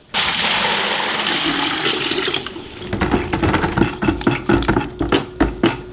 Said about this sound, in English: We're gonna mix one pound of Knox gelatin with four liters of cold water.